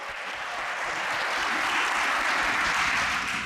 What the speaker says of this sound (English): Can I hear one more round of applause for them?